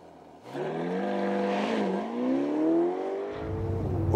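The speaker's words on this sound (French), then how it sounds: "si vous mettez en mode confort et que vous roulez tranquillement, la voiture est discrète, presque furtive pour une Ferrari" Ferrari GTC4 Lusso T V8 car in comfort mode, its engine starting from near silence and building to a smooth, moderate hum with gently rising revs, heard from close by without any talk.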